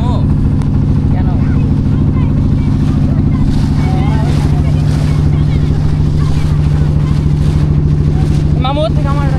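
A boat motors along the Padma river in Bangladesh, its steady low engine drone running beneath gusting wind on the microphone, with people talking nearby.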